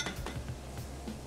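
A metal baking tray is lifted in a home kitchen, clinking and knocking lightly against other cookware in a few brief, close taps, with no talk.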